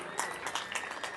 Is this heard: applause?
yes